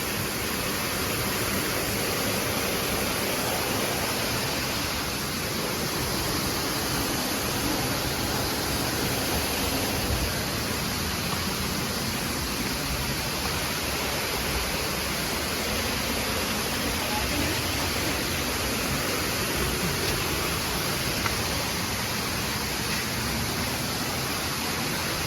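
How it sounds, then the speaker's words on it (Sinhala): The waterfall at Riverston roars as a steady, broadband rushing wash of falling water, loud and unbroken throughout with no other sounds standing out. "ඇල්ල පේනවා අපිට දැන්"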